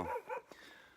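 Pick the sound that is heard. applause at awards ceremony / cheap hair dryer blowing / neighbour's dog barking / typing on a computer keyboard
neighbour's dog barking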